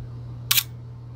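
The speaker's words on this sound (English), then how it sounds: "let's do the slowest shutter speed before you get to B" A film camera's shutter fires once at a slow 1/4 second speed, giving a crisp opening snap and a closing click close together, loud and close against a faint steady hum, with no talking.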